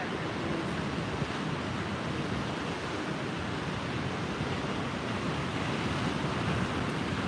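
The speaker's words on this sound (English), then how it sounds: "Some larger waves than normal out here." Pacific Ocean surf roars steadily during a tsunami advisory in Northern California, a constant loud wash of breaking waves mixed with wind buffeting the microphone.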